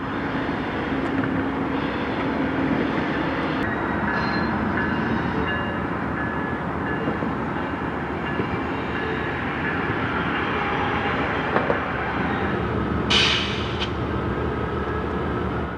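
A long CPKC freight train rumbles steadily past at close range on the Kellogg Bridge in Saint Paul, Minnesota, with continuous wheel and rail noise and a brief high squeal near the end.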